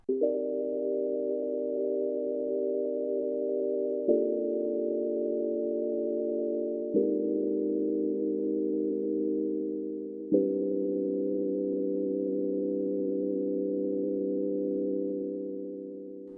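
Steady sustained tones from a Doppler FM synthesizer, each held for several seconds before shifting to a new pitch, four notes in a row, clean and alone with no talking, fading out at the end.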